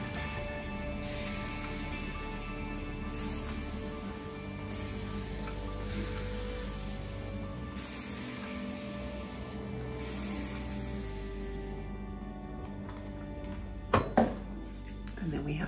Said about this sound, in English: And we'll spray it again.